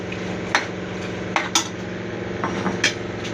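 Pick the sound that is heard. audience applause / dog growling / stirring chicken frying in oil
stirring chicken frying in oil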